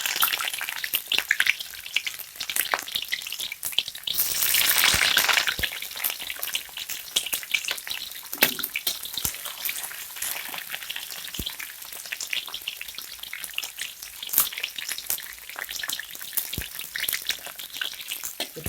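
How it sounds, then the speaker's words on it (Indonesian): Shallots and garlic sauté in hot oil in a home kitchen, giving a continuous close crackling sizzle with a denser burst midway and occasional sharp pops, steady throughout with no talking. "kita tumis bawang merah dan bawang putih sampai layu"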